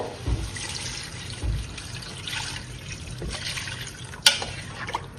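Water trickles and pours steadily into a pot of chicken for a madhooth rice dish, fairly faint and close, with a couple of soft bumps and a sharp clink near the end.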